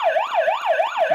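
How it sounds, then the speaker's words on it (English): An electronic wailing siren comes from the liar button of a Clue Liars Edition board game, rising and falling rapidly in a steady, loud, close cycle with no talking. "Siren?"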